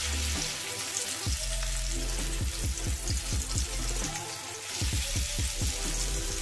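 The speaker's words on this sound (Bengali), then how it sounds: "আর এখন আমি একে একে এই ধোকাগুলো ভেজে নেব।" Peas dhoka cakes sizzle and crackle as they are fried one by one in hot mustard oil over a low flame, a steady close frying hiss broken by sharp spitting pops, with no speech.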